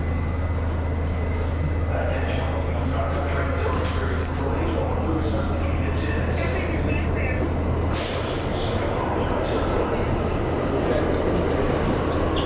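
A New York subway Q local train running on the B/F line toward 96th Street, with continuous heavy rumbling and clattering wheels and a brief shift in the noise midway, while spoken announcements play over it.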